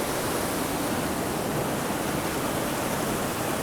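Raging creek water in the Eastern Sierra rushes in a dense, constant roar that fills the whole clip, loud and close with no pauses.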